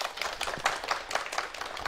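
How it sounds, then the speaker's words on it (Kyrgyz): Audience clapping steadily at a Kyrgyz National University 90th anniversary event, a dense continuous patter of many hands at moderate distance with no speech over it. "Бир кол чаап коелу."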